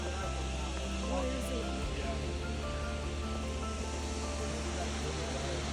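Lower South Falls roars nearby with a steady, unbroken rush of falling water, heard from stairs descending toward it, with faint voices underneath.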